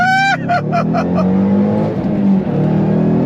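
A Ford Shelby GT500 Mustang of the S197 generation launches hard from a dead stop. The engine roars close and loud, climbing quickly through the first gear changes before settling into a strong, sustained pull, with an excited shout over it.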